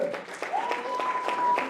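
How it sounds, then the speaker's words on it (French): Audience applause at the close of a French talk event, a short burst of clapping with a sustained tone running through it, fairly loud and steady for under two seconds. "on peut encore les applaudir très fort pour leur travail"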